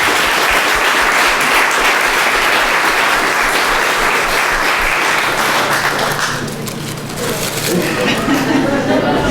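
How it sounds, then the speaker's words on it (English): A live audience applauds for Maaryasha at a babka baking event, loud continuous clapping that thins slightly near the end while voices chatter underneath. "Give it up for Maaryasha."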